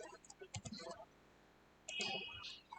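A computer mouse clicks a few times in quick succession at a desk, soft and close, with faint murmured speech and small clicks around it.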